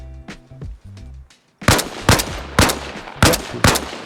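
Single loud AK rifle shots fired at the side latches of a US military vehicle in a shooting game, five sharp reports spaced roughly half a second apart after quieter thumping game sounds.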